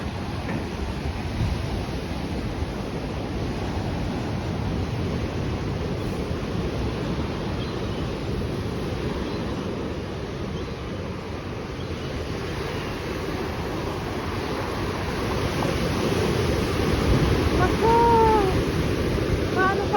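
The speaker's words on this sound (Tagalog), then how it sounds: "Yan ang dagat dito." Sea surf rolls in steadily along Redcar beach near Middlesbrough, England, beside a stepped seawall on a cloudy, drizzly day, a continuous broadband wash that swells slightly toward the end, with a few faint bird calls over it.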